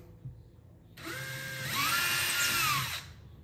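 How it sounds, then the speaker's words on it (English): A power drill whines up close, running steadily for about two seconds with its pitch rising and then easing as it bites into a hard surface while drilling anchor holes for mounting a toilet paper dispenser. "you simply drill through these anchor points"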